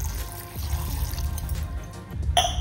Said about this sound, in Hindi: आउ पानी पकेबा